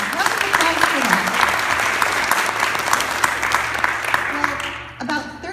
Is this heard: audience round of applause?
yes